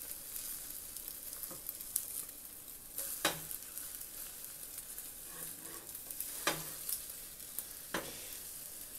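Tortilla pieces for chilaquiles fry steadily in a pan with a continuous sizzling crackle, broken by a few sharper stirring scrapes, close and moderately loud with no talking.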